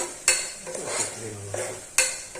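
Spoon stirring okra curry with coriander-cumin powder in a pan, with a few sharp scraping clinks against the metal and a soft sizzle underneath; no talking.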